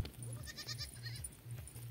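Sheep bleat repeatedly at a herder's flock outdoors, short low calls recurring in a steady rhythm, faint and at a moderate distance.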